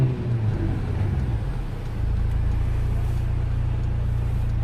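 Mercedes-Benz AMG GLA 45 Edition 1 engine holding a steady, loud low drone, rougher and more uneven for the first two seconds before settling into a constant hum.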